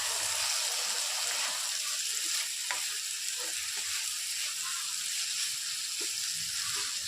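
Ridge gourd pieces cooking in hot oil in a home kitchen for a moong dal curry, giving a constant close sizzle with a few soft clinks and stirring knocks.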